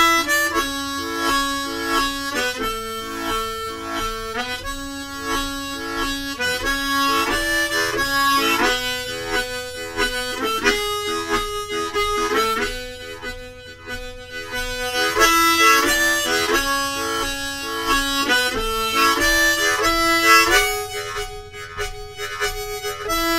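A harmonica plays a lilting, accordion-like waltz using tongue blocking, its chords pulsing on the second and third beats of each bar in a steady three-count rhythm.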